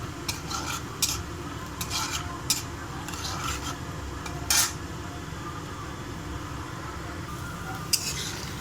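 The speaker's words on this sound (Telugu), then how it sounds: "బాగా గోల్డ్ కలర్ వచ్చే వరకు ఫ్రై చేసుకోవాలి" Peanuts and chana dal frying in oil for sabudana khichdi, a soft continuous sizzle with occasional spoon scrapes and clinks against the pan, close but moderate in loudness.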